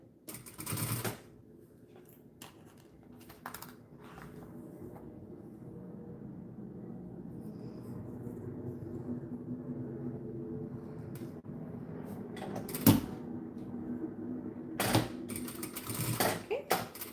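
A sewing machine basting stitches through clear vinyl runs as a steady, moderately quiet mechanical hum for most of the stretch, with a few sharp handling clicks on top.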